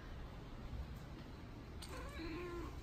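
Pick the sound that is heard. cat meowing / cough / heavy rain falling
cat meowing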